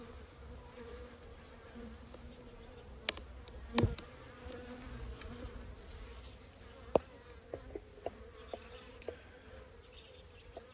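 Honey bees pouring out of a winter mini nuc hive during an inspection, a low, close buzzing hum throughout, with scattered sharp clicks and knocks from handling the hive.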